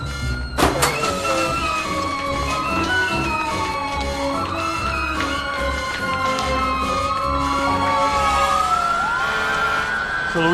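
Several fire trucks pass with wailing sirens that rise and fall and overlap, loud and close, amid rumbling engines and a sharp horn blast near the start.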